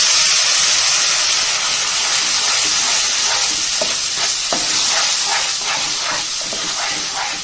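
Tamarind and tomato paste going into a pot of pepper rasam, a steady loud hiss and sizzle with brief stirring and splashing bursts toward the end, close up and without speech.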